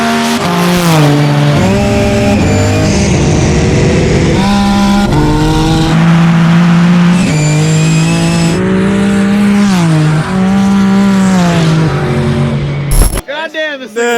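A 1,300hp Altima drift car drag racing a twin-turbo 1,000hp Hellcat, loud engines screaming through rising gear pulls with abrupt shifts, ending in a sharp burst of wind or handling noise.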